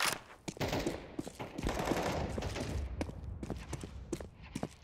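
Rapid bursts of gunfire in Counter-Strike 2, dense overlapping shots and thuds filling the stretch, loud and close with no speech over them.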